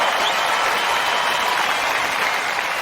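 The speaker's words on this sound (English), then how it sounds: "the crowd's got another standing O for Roger" A large tennis crowd at Roland Garros gives a standing ovation, a loud, dense and unbroken wash of applause with no break.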